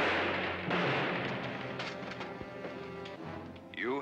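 Gunfire in a 1947 film trailer, sharp shots standing out over a dense orchestral music bed, with a loud burst near the start and another crack toward the middle.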